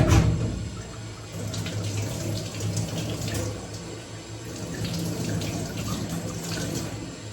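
Tap water runs steadily into a sink while arms are wetted and scrubbed up to the elbows during a surgical hand scrub, a constant close splashing hiss with slight shifts as the hands move through the stream.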